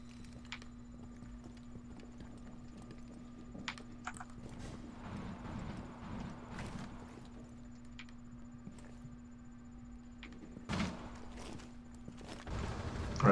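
Footsteps in Rainbow Six Siege, a rapid patter of steps moving through the map, faint and steady with occasional louder thumps and clicks, no talk.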